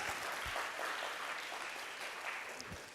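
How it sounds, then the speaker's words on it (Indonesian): A church congregation at BSD Church applauds, a continuous wash of many hands clapping at a distance, fairly quiet overall with a few low thumps and no talk over it. "Tepuk tangannya yang keras."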